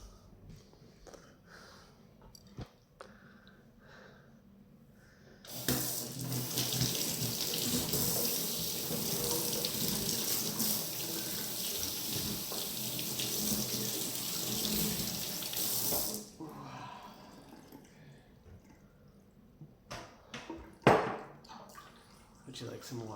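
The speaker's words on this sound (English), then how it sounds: "just gonna wash my hands" A tap gushes steadily for about ten seconds as hands are washed beneath it, with quieter room sounds and faint clatter before and after.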